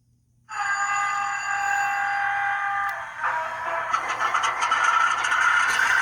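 A Scaletrains C40-9 model diesel locomotive's sound system starts its engine. A steady droning hum with layered tones begins abruptly, then shifts midway into a rougher, busier rumble that stays loud to the end, with no voices.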